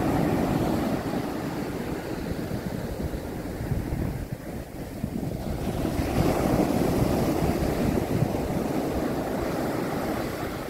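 Strong ocean waves roll and crash continuously on the white sand beach at Pagudpud, Ilocos Norte, a loud, full surf wash mixed with gusty wind buffeting the microphone.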